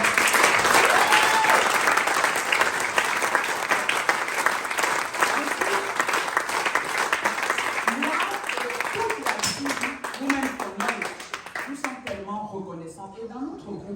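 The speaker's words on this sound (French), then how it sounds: "vraiment d'applaudir fortement" A crowd at a business and success speakers' event breaks into loud, dense applause that holds for several seconds, then thins out and fades as a voice begins speaking near the end.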